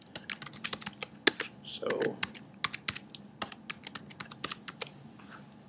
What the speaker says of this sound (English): let's type in a more memorable password